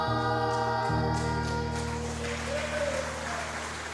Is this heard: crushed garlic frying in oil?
no